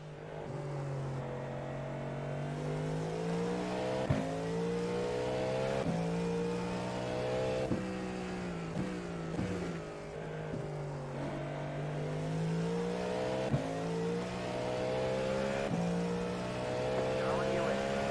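A Porsche race car at the 24 Hours of Daytona, engine note rising and falling steadily through gear changes as it laps, heard from inside a car, with voices talking over it.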